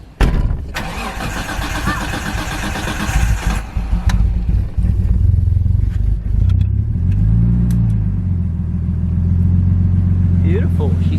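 A Nissan R33 Skyline fitted with a new turbo cranks and starts, then settles into a deep, loud idle with a brief rev swell, close by, with people talking during the cranking.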